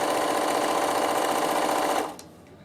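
A Bernina sewing machine stitching patchwork fabric runs in a steady, fast, even whirr, close and loud, then winds down and stops with a faint click near the end.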